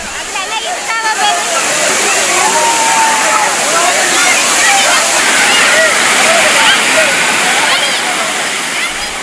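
Thirparappu waterfall in Kanyakumari district sends water rushing in a loud, steady roar that never lets up, with a crowd of tourists chattering underneath.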